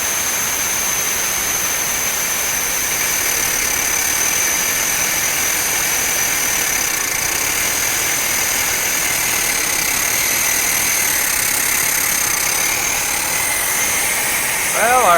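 A 1982 Datsun 720 4x4 pickup engine idles steadily and loudly for a long stretch while warming up, a constant droning hum with a faint whine on top, up close.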